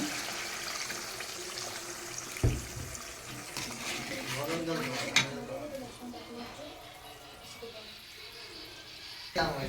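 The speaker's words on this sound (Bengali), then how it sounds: "এর ভিতরে দিয়ে দেবো আমি কিছুটা জল।" Water poured into a cooking pan with turmeric and salt, a close splashing pour with a few pan clanks, continuing at moderate loudness.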